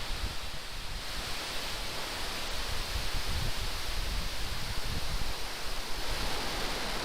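SpaceX Falcon rocket lifting off carrying the GPS III SV03 satellite, a steady, dense broadband roar that holds at an even level throughout, sounding somewhat distant, with no voices.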